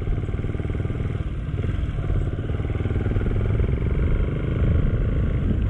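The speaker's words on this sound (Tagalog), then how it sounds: "Ayan, nakita niyo yung motor ng mama no?" A motorcycle engine chugs steadily nearby on a deeply muddy road, a low, rhythmic rumble that grows slightly louder toward the end, with no talking.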